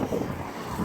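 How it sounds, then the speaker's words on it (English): Wind buffets an outdoor microphone on a blustery day, a continuous low roaring rumble with gusty swells that never lets up across the short moment. "It is a windy day out here."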